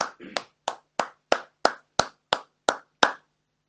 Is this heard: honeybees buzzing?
no